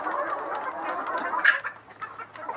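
Chickens on a poultry farm cluck and murmur in a busy, continuous chorus, with one louder squawk standing out near the middle and softer clucks carrying on after it.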